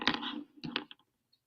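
A short flurry of keyboard typing, quick clustered key clacks close by, then silence.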